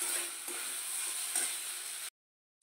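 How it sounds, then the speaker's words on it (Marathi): Cheese butter pasta is stirred in a hot pan, a steady close sizzle with soft scraping strokes for about two seconds before cutting to silence. "हे पहा, चीज टाकून झालं की मिक्स करून घ्यायचं आहे."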